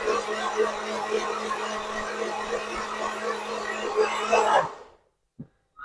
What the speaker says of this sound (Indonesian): Nah kita blender nih ya.